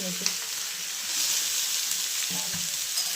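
Onions fry in oil in a pan with a steady, close sizzle and a few soft clinks of a utensil stirring.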